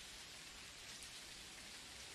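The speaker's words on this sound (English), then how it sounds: "I see the rain outside" Steady rain falls outside in an Unreal Engine weather system, a faint, even hiss of dense drops with no breaks or other sounds.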